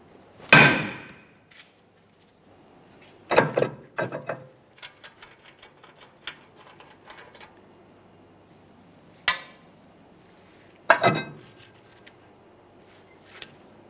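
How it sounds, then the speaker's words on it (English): Hammer blows knock against a stuck brake rotor on a Nissan Maxima rear hub: sharp metallic strikes, some single and some in quick clusters, with faint ringing and small clinks between them in a quiet workspace. "if your brake rotor is stuck in place, you're going to have to start tapping it off of here"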